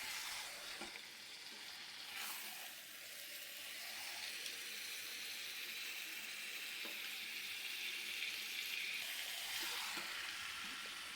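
Chicken sautés in a kadai for a meat curry, a faint steady sizzling hiss with soft scraping of stirring now and then, heard alone without voices.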